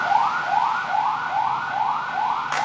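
An ambulance siren wails in steady rising and falling sweeps, about six cycles, loud and continuous with traffic rumble beneath.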